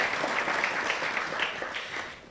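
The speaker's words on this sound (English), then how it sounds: "Let's applaud Dr. Salim for work well done." An audience applauds Dr. Salim at a primary health care documents launch: dense, steady clapping that fills the room and tapers slightly toward the end, with no voices over it.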